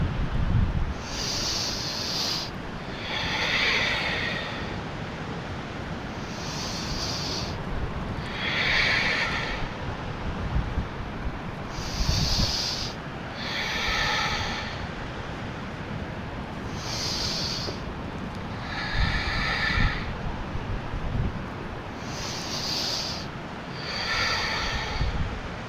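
Deep, audible inhales and exhales during seated yoga twists for tight hips, repeating in a slow, even rhythm of about ten breaths, close and alone with no talking.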